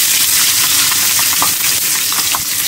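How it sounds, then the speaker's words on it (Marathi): Chopped garlic hits hot oil for a tempering and sizzles loudly and continuously close up, a dense crackling hiss with small popping bursts throughout. "ह्यात टाकतो मी लसूण"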